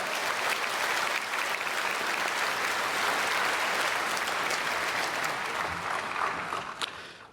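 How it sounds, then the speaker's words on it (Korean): Congregation at a church service applauding to welcome newly registered members, a loud, dense, sustained clapping from a large crowd that fades slightly at the end. "우리 크게 박수로 환영하겠습니다"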